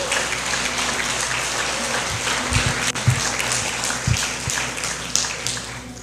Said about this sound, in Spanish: Dale un aplauso fuerte a Él.